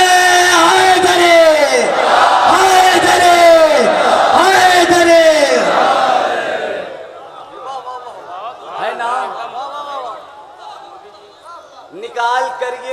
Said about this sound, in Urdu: مل کر بولے نعرے